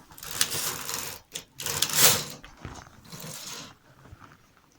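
A domestic knitting machine's carriage is pushed across the needle bed in several clattering mechanical passes with short pauses between, close and moderately loud.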